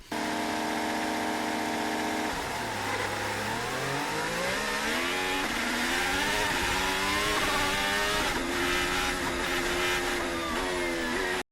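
Formula 1 cars race on a damp track at the São Paulo sprint, a continuous loud engine whine rising and sliding in pitch as the cars accelerate, with no voices.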